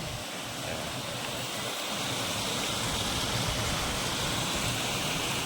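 Beneath a glass bridge near the Napne waterfall in Vaibhavwadi, Konkan, a large mass of water surges past in an unbroken, full-bodied rush that swells slightly louder midway and holds steady with no voices.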